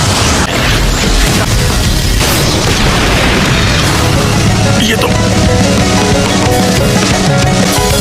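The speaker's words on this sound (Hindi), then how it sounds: "अंतरिक्ष में विस्फोट हो जाता है।" A loud, sustained anime explosion effect in space, a dense booming roar filling the whole clip with crashing bursts and rumbling low end, layered with dramatic music and effects.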